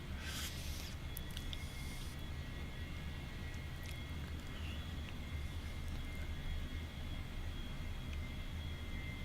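A-4E jet aircraft engine in the DCS flight simulator, a steady broadband roar and rumble with a faint high whine, continuous and unchanging, preceded by a brief burst of noise.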